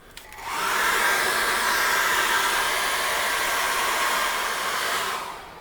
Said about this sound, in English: What I'm going to do is dry that with a hairdryer